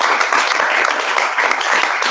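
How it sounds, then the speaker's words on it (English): An audience applauds a panelist at a gathering on content creation and free speech, a steady, dense wash of clapping that holds evenly for about two seconds with no voices over it. "Let's give him a round of applause."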